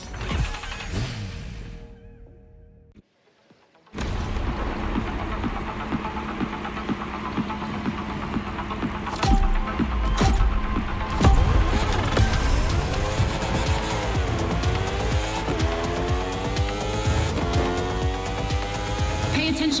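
A racing motorbike engine in The Crew Motorfest runs hard, with rough throbbing and rising and falling revs that grow louder in the second half. A voice talks over the start.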